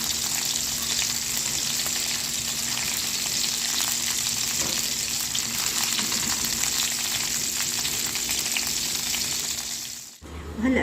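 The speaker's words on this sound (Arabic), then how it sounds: "هلا على الزيت كمان حميت الزيت، وهلا عم حط البصله" Onion frying in hot oil for homemade Indian-style kebab, a steady, dense sizzle close by that runs unbroken for about ten seconds before cutting off sharply near the end.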